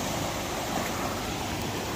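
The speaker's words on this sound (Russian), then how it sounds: "Вон, посмотрите, какие потоки несет река." A flooded river surges toward the sea near Anapa, its broad, unbroken roar of rushing water filling the whole stretch, loud and steady with no voices.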